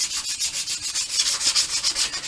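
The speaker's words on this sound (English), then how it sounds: "So we're just doing our sanding now." A custom cold air box for an LS-swapped C10 is hand sanded before painting, with close, loud, rhythmic back-and-forth rubbing strokes repeating steadily and no talking.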